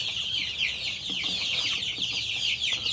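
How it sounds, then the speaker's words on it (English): Two-week-old spotted and brown chicks peep continuously in a brooder, a dense, shrill chorus of overlapping high chirps at moderate volume with no talking. "Look at these spotted chicks."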